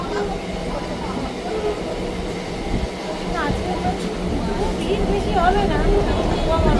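Steady low rumble of a moving train interior, a continuous rolling drone with faint squeaks and rattles, no talking.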